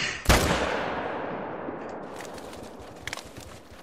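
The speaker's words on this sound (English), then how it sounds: "I shot him!" A single loud, sharp rifle shot fired at a bear in the hunting video game Hunter: Call of the Wild, followed by a long echoing tail that fades out, with faint scattered sounds near the end.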